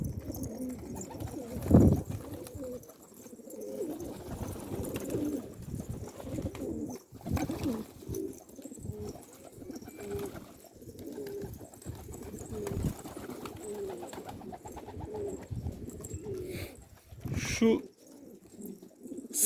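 Domestic Istanbul pigeons in a loft coo in low, repeated bursts, near and moderately loud, with scattered rustling and wing sounds around them and a voice talking at times.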